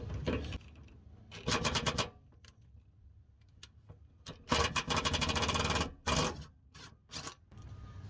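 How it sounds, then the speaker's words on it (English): A 15/16 socket ratchets speed nuts loose on a Ford Contour during parking brake cable work, giving bursts of rapid mechanical clicking separated by quieter pauses, close and fairly loud. "I'm using a 15/16 socket to take them off, which seems to be doing the trick."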